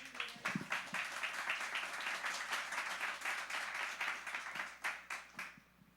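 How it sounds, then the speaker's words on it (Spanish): Church congregation clapping during a Spanish-language sermon, a sustained round of applause with some sharper individual claps standing out near the front, holding steady before thinning out toward the end. "Dale un aplauso a Dios."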